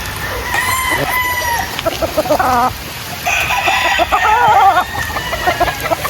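A Sweater gamefowl rooster crows loudly nearby, and clucks and other fowl calls are heard along with it, with no talking.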